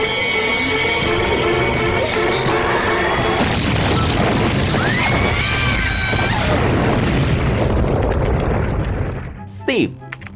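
A loud, sustained roar of real, non-CGI explosions and crashing debris fills an Indian film scene with dramatic sound, ending with a sharp sweeping effect.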